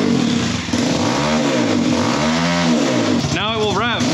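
A Kawasaki KLX170RF dirt bike fitted with a D3 BBR exhaust revs loudly and close by, rising and falling in several swells before a sharper blip near the end, with a steady underlying engine drone throughout.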